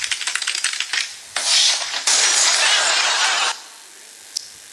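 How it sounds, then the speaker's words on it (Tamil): Rapid typewriter keystrokes clatter in a quick burst, then give way to a sustained mechanical whir and rattle before the sound cuts off, with one faint click near the end. "அதான் டைப்ரைட்டர்."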